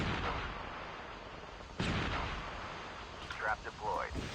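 Sniper rifle shot in Call of Duty Mobile, a single sharp distant crack amid ambient battle noise, followed by faint clicks and brief rustling sounds.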